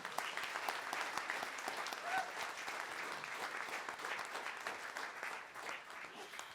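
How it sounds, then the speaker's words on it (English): A seated audience at a civil rights awards ceremony gives a steady round of applause for a student award winner, dense clapping held at an even level throughout with no voices over it. "we want to give you another round of applause"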